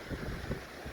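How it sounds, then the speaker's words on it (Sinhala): Strong wind blows across a mountain hiking trail on the Pekoe Trail in Sri Lanka, between Galaha and Loolkandura. It makes a close, continuous rushing roar that buffets the microphone. "ඔයගොල්ලන්ට ඇහෙනවා ඇති මේ හුළඟ සද්දයට මගේ කටහඬත් ඇහෙන්නේ නැතුව ඇති"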